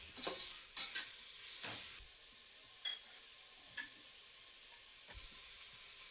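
Two onions fry in hot mutton fat, giving a faint, steady sizzle. Scattered scraping ticks from a spoon stirring them in the pan are heard alone, with no talk.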